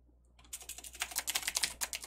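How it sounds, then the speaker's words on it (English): Keyboard typing on a computer during a software development session, a short burst of rapid, close clacking keystrokes starting after a brief quiet moment, with no speech. "Type data in here"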